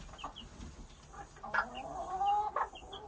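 Chickens and a chick cluck in a farmyard, soft close clucks and thin peeps scattered over a quiet outdoor background.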